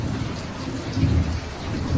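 Heavy rain pours steadily with a dense hiss and low rumbling outside a provincial house as it floods, no voices.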